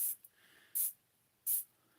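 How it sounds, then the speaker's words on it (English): A spritzer bottle sprays water across paper in three short, sharp hissing bursts, a brief one followed by two longer ones at even intervals, close and otherwise quiet. "And then we're just going to gently spray across,"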